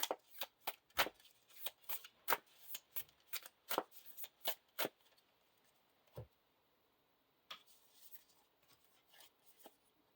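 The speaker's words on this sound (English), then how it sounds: "shuffles his deck, and discards the top 2 cards" Crisp riffling bursts of a deck of cards being shuffled in quick succession, then a pause, then a few softer shuffles, close and quiet.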